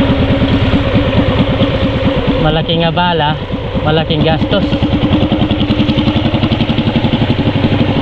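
A single motorcycle engine idles close by with a loud, steady, throbbing putter, while someone talks over it throughout.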